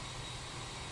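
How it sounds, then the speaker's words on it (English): Steady broadband roar of an FS Labs A321neo jet engine in Microsoft Flight Simulator, a continuous even rumble with a hissing top, constant in level and heard alone. "I do like the engine a lot. The sounds are very nice in this airplane."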